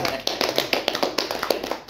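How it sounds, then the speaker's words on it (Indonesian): An audience claps in honour of the head of the East Sumba regency civil service agency: a sparse, uneven run of sharp hand claps with a voice talking over them. "Kita tepuk tangan untuk Bapak Kaban."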